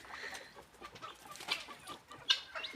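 Guinea fowl in a farmyard giving short clucking calls, a few scattered chirps and cackles at close to moderate distance over a soft, busy background.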